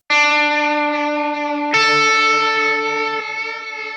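A Donner Arena 2000 guitar pedal set to modulated delay rings out two sustained guitar chords, the second struck partway through, each tone wavering and repeating as it slowly fades, loud with no voices.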